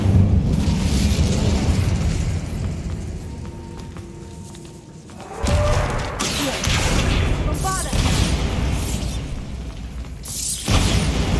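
In Hogwarts Legacy, an Incendio fire spell bursts with a whooshing blast, followed by further crackling fiery booms over a busy game soundscape, and a voice speaks at points.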